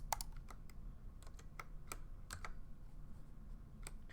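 Keys on a computer keyboard are pressed to enter shortcuts, in scattered, uneven bursts of sharp clicks heard close up with no voice over them.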